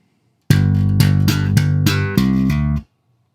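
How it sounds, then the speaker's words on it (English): Slap bass playing a slapped C that hammers on to D, a short run of about seven punchy, bright plucked notes repeated slowly and evenly, close and loud with no talking. "you're just going to slap that string once as you play the C and then hammer on to get"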